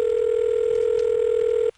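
A single steady multi-frequency key pulse tone on a long-distance telephone call holds for under two seconds, then cuts off abruptly, leaving faint line noise.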